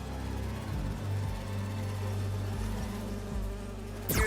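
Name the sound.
buzzing holographic bee wolves in Spider-Man 2 video game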